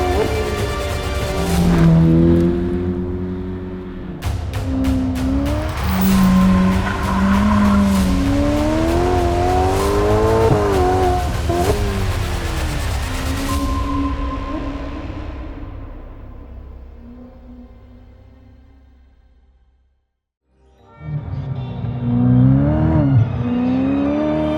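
A Ferrari F8 Spider drives hard through corners, its engine rising and falling as it revs and shifts, loud and close, with a long fade near the end before it roars up again.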